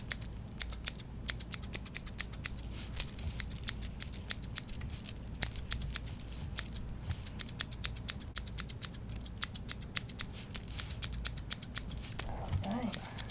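Scissors snipping hair for a small trim, a fast run of crisp close snips that continues steadily throughout, with a brief rustle near the end.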